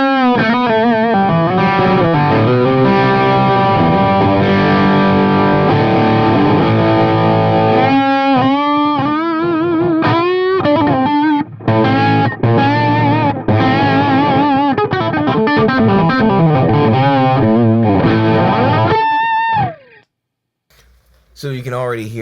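Overdriven electric guitar plays chords and riffs through an amp, loud and continuous, with a short pause near the end before a final strum.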